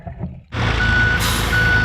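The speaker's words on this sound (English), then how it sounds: "And we have excavators, dump trucks, backhoes." A dump truck backs up at a creek restoration site, its reversing alarm sounding steady loud beeps over a heavy diesel engine rumble that starts abruptly and stays close.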